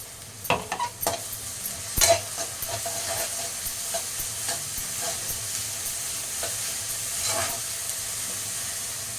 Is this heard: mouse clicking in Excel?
no